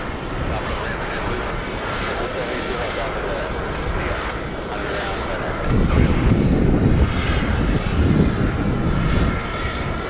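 Jet airliner engines rumble at JFK airport, a broad steady roar that swells louder in the second half, with faint talk in the background.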